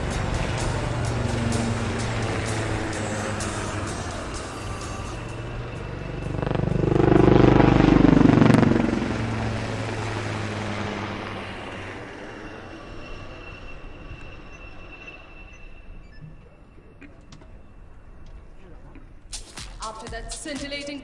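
Loud rotor noise from the Sarang helicopter display team of the Indian Air Force at a graduation parade swells and passes overhead, rising to a peak midway then fading into a steady distant drone.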